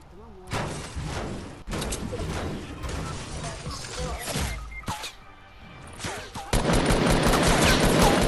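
Fortnite gunfire rings out in bursts of loud, sharp shots, broken by thuds, with a denser barrage toward the end while players talk over the action.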